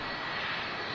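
Jet engines of a Jet2 Airbus A330-200 at Manchester Airport give a loud, continuous broadband roar that fills the whole moment without any break.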